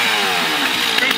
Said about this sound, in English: Oh my goodness, he's got a chainsaw.